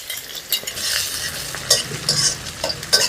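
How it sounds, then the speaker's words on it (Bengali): Onion frying in oil for a bean mash, with a spoon stirring and scraping the pan in bursts over a steady sizzle, close and fairly loud, with no talk. "এখন আমি এই পেঁয়াজ দিয়া সম্বাস দিব।"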